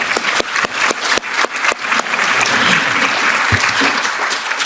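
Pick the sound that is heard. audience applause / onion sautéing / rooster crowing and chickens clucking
audience applause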